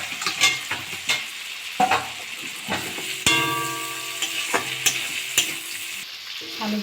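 Potatoes frying and being stirred into oil-released spice paste for a Gobindobhog rice muri ghonto, with a steady sizzle and repeated scraping stir strokes and clinks of the spoon, close and alone.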